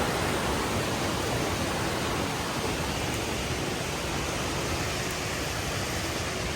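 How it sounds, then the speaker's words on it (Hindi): A waterfall beside a mountain trek path makes a constant, dense roar of rushing water that stays loud and unbroken throughout. "वो देखो सुंदर सा वाटरफॉल"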